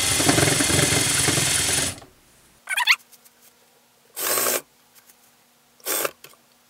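Home sewing machine stitching a fabric hair scrunchie, one long steady whirring run up close, then quiet with three short separate bursts of stitching.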